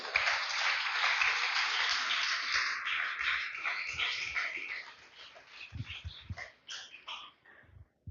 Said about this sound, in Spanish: Denle un fuerte aplauso al Señor, aleluya.